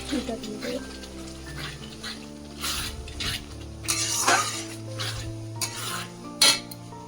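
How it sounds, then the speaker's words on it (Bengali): Mutton coated in red spice masala is stirred and fried in a pan, with scraping strokes and sizzling bursts over a low background hum, while a person talks quietly nearby. "এই যে মাংস মশলাটা কষায় মিক্স করছি"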